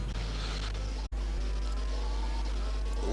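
A Formula 1 car in the F1 2021 racing game at the Austrian circuit, heard on board during a flying lap: a steady, loud, high-revving engine drone with one brief dropout partway through.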